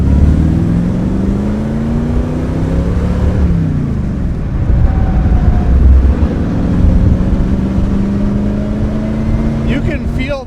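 A 1952 Allard J2X with a Mopar Hemi V8 runs loud and close, a deep steady rumble with rising and falling revs as it warms up.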